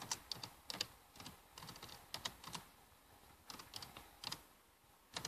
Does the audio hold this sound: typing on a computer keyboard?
yes